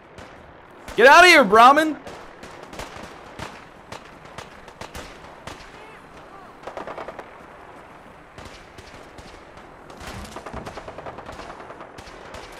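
Gunfire battle in the Fallout 4 video game, with a loud burst of rapid shots early on, then scattered lighter shots and clatter continuing under people talking.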